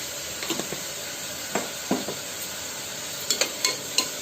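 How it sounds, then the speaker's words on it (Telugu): Onions with a pinch of salt frying in a pan give a steady, soft sizzle, broken by a few light stirring scrapes and taps, close by with no one talking. "ఇప్పుడు ఉల్లిపాయలు త్వరగా వేగడం కోసం కొంచెంగా సాల్ట్ వేస్తున్నాను"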